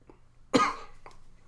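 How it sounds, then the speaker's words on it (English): A single short cough, fairly close and moderately loud, is followed by a faint trailing throat sound against a quiet background. "I'm still coughing a little bit."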